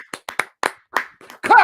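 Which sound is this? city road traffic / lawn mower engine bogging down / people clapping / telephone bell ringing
people clapping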